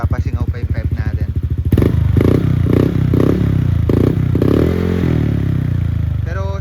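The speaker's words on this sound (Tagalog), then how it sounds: "So kapag nag-minor tayo or hininto natin yung throttle, meron siyang backtone." Motorcycle with a freshly refibered exhaust pipe, engine revving loudly then easing off the throttle, with a series of rhythmic popping thuds from the pipe as it decelerates, close and continuous throughout.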